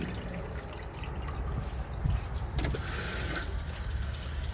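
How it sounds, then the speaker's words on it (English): Water pours and splashes steadily into a 2003 American Standard Compact toilet bowl, a continuous close trickling fill with no voices. "let's add some water to the bowl"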